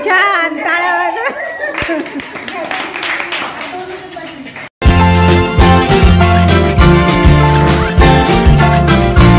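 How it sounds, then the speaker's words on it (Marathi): Women clap their hands at a leader mothers' gathering at a central school. Voices and children chatter first, then loud, sustained rhythmic clapping fills the second half. "छान टाळ्या वाजवा"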